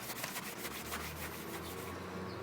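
Bondo filler being scrubbed down by hand on a Mercedes-Benz SLK wheel during refinishing, a soft, faint, continuous rubbing with repeated abrasive strokes and no talk.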